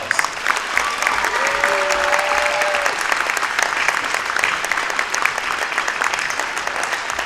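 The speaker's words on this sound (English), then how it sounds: "give these special Wes-Del staff members a big round of applause" Crowd at a high school boys basketball game in a gym applauding Wes-Del staff members, a loud, sustained roar of clapping with a brief whistle-like tone early on and murmured voices mixed in.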